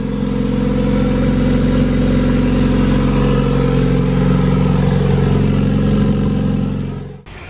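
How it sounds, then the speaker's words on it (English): A car's engine idles steadily after a new eBay turbo kit install, a loud, even low rumble with a continuous drone that cuts off abruptly at the end. "now that the turbo kit is complete, guys, the car turns on, it sounds great."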